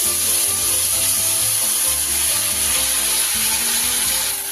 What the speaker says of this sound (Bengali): যে মশলার পেস্টটা করে রেখেছিলাম সেটা দিয়ে দিলাম